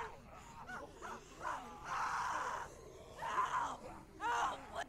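A girl's anguished screams and wails come in several drawn-out bursts during a zombie-survival video game, loud and raw, with groaning pauses between them.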